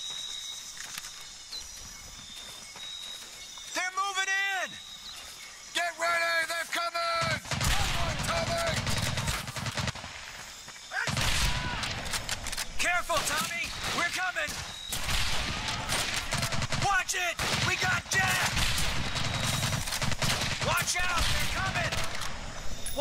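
Bursts of rifle and machine-gun fire in the Medal of Honor Pacific Assault video game during the Makin Atoll raid, sharp rapid volleys repeating across the scene, with shouted voices of soldiers mixed in.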